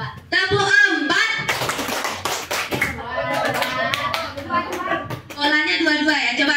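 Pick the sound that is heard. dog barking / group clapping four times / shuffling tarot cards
group clapping four times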